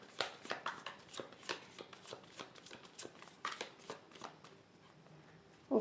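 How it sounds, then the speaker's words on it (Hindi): Tarot cards being shuffled by hand, a quick series of crisp riffling snaps and slaps at close range, fairly faint, ending with one louder knock. "One last shuffle."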